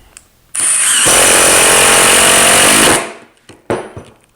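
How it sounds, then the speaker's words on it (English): An impact driver kicks in with a loud, rapid hammering rattle for about two seconds, then winds down, followed by a few short clicks and knocks. "Here's the impactor."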